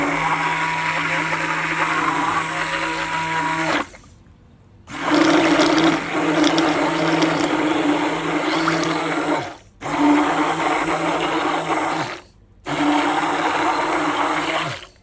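An electric mixing machine churns a batch of homemade bar soap made from used cooking oil, running in several loud, steady whirring bursts separated by brief stops.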